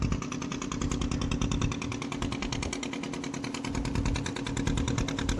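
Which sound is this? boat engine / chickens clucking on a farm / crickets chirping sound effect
boat engine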